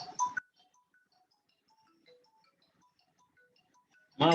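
A faint phone ringtone plays a sparse sequence of soft electronic tones in otherwise near-silence, with short bursts of a person speaking at the start and the end.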